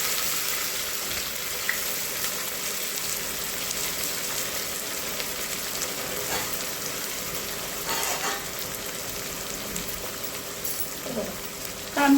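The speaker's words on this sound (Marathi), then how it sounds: "कांदा चांगला लाल भाजून घ्यायचा" Onion frying in a pan for Marathi chicken kharda makes a steady, soft sizzle and hiss throughout, with occasional faint clinks and stirring noises.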